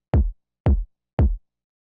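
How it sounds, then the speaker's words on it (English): Three evenly spaced hits of a punchy hip-hop style kick drum sample for deep organic house, each a short, deep, tight thump, isolated against silence. "It's just a nice punchy, kind of like, almost like a hip-hop style kick."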